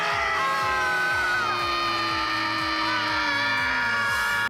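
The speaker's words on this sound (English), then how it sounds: "We could do the scream again." An actor's loud, prolonged scream in the monster film The Bride, held for several seconds at high pitch over a steady pulsing low beat.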